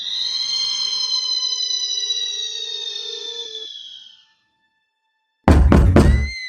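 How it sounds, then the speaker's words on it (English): A long, ringing tone fades away into silence, then two or three heavy, booming knocks on a door land loudly at the end. "A knock at the door boomed"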